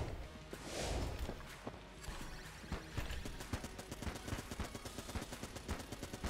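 Rapid video-game gunfire from Enter the Gungeon, dense bursts of sharp shots in a steady rattling stream over game sound, loud and continuous throughout.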